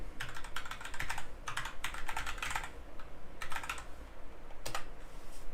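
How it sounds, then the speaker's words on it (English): Quick bursts of typing on a computer keyboard, close and clear, coming in irregular clusters of rapid clicks with short pauses between them. "I'll type it in chat."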